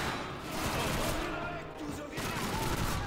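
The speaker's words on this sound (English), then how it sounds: "Oh, they're trying to shoot us through the point." Gunfire in Call of Duty 2 sounds as dense, continuous bursts of shots and explosions. A player talks over the loud shooting.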